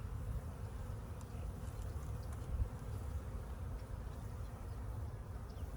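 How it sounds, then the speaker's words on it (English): Honey bees hum from an opened hive box, a faint, dense, continuous buzz with no breaks and no talking. "That's a box of bees there, buddy."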